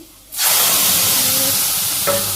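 Chopped onions and cumin seeds hit a hot pan and set off a loud, steady sizzle that fills the whole moment, close and continuous, with no voices over it.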